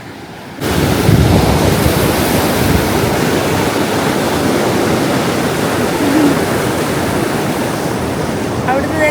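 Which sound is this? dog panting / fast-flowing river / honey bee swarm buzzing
fast-flowing river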